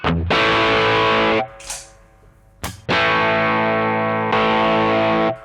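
A TC Electronic Nova Drive pedal on a preset with only its distortion engaged drives a guitar in three loud sustained chords, each ringing for over a second, broken by a short muffled gap and a sharp pick attack.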